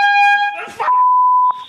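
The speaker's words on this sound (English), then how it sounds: "This is a air horn." An air horn gives a loud, harsh, piercing blast, breaks off briefly while a voice cries out, then sounds again as a steadier tone, close by.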